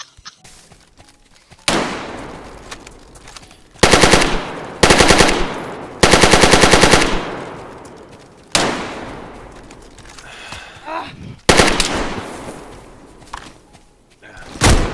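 Loud bursts of AK rifle fire in a video game, several rapid automatic strings and single heavy reports spread across the stretch, close and punchy with a few quieter gaps between volleys.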